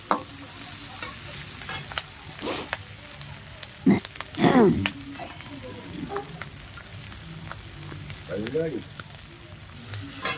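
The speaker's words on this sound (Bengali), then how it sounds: "এটাকে ভালো করে ভেজে নিতে হবে অলরেডি" Bay leaves frying in hot oil for a Bengali cabbage and prawn dish, with steady low sizzling broken by several sharp scraping stirs and clatters of a utensil against the pan.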